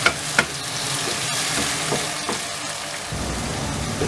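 Tomatoes and green chillies fry in a pan, a continuous loud sizzle with a couple of sharp stirring clacks near the start, close and steady with no talking.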